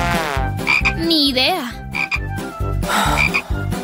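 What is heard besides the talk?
frog croaking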